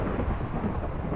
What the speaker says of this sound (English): You guys clearly have never heard rain.